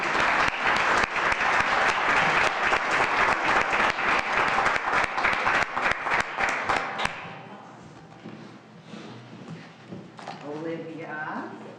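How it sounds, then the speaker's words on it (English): A board meeting audience gives a loud, dense round of applause for a group of girls receiving certificates; the clapping stops abruptly and quieter talking follows. "how about a round of applause for these?"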